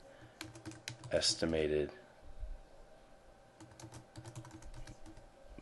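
Someone types a sheet name on a computer keyboard in Microsoft Excel 2013. A short spoken word comes first, then a steady run of light, close keystroke clicks that pick up toward the end.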